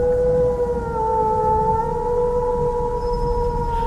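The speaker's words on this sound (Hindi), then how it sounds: "बांस के जंगल के अंदर लोमड़ियां हू हू करती हुई आवाज करने लगी।" Cartoon foxes howl in a bamboo forest, a sustained, eerie tonal wail holding steady pitches like a distant siren, loud and continuous with no speech over it.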